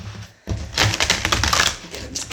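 Tarot cards being shuffled by hand, a dense papery riffle of rapid flicks and slaps that starts abruptly and runs close and fairly loud, with no talking over it.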